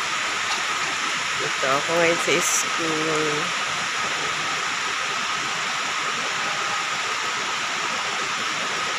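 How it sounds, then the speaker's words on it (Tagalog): Steady rain falls at a school on a wet morning, a dense even hiss that fills the whole clip, with a person talking briefly over it near the start. "Ito, pag-ulan dito sa school."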